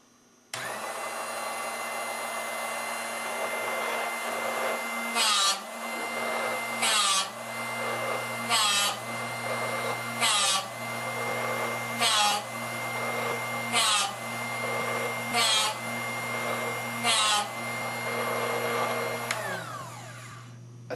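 A Drill Doctor SB drill bit sharpener runs with a steady motor hum while a drill bit is ground in its sharpening port, with about ten evenly spaced rasping grinding strokes over the drone, close and alone.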